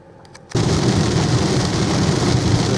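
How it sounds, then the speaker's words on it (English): Heavy rain drums loudly and steadily on a moving car while driving through the Cromwell Gorge in a BYD Atto 3, starting abruptly after a quieter half-second of cabin noise and continuing as a dense, constant roar. "There's some heavy rain in the Cromwell Gorge."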